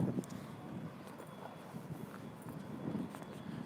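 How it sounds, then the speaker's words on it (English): Wind blows outdoors on a New York City street, buffeting the microphone with a faint, uneven low rush and scattered soft thumps. "It's windy."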